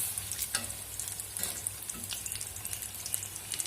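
Potato bonda frying in hot oil in a home kitchen: a steady close crackling sizzle with small irregular pops throughout, and no talking.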